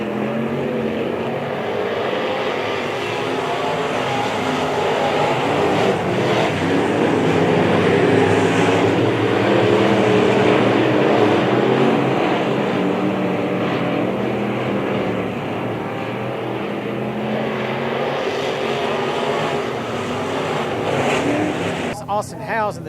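B Modified race cars roar around Springfield Raceway at the Turkey Bowl, a steady loud engine drone rising and falling as they pass, with a commentator talking over it throughout.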